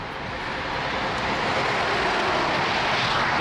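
Heavy trucks rumble past on a Norwegian road beside a cyclist, a loud, steady roar that swells and builds throughout without any voices.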